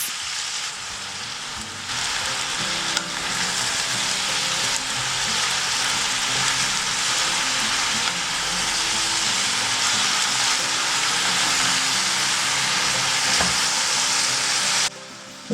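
Meat and flat green beans stir-frying in a wok, a loud, steady, dense sizzle that runs unbroken for about fifteen seconds, with faint scraping stirs underneath and no talk.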